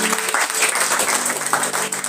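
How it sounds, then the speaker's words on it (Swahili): Congregation applauding during a Sunday church service, steady close clapping filling the whole moment with scattered voices mixed in. "Piga Yesu makofi."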